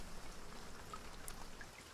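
Rain falls outside a garage in a faint, steady patter of drops striking surfaces, continuous and distant, with no voices.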